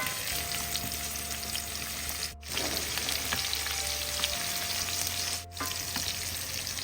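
Continuous close sizzling of onions frying in a pan for mutton sukka, with occasional stirring and two brief cuts in the sound.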